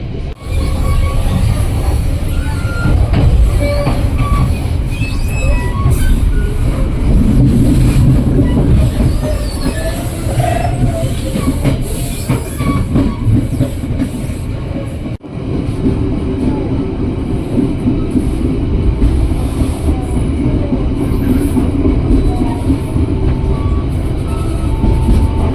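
Crowded local passenger train on the Merak line in Indonesia running on rails, a steady loud rumble with rhythmic wheel clatter and occasional squeal continuing throughout, with no talk.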